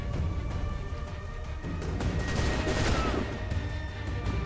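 Gunfire in the Assassin's Creed III video game, a dense rattle of rapid shots and muffled booms blending into a continuous loud barrage, with no clear talk over it.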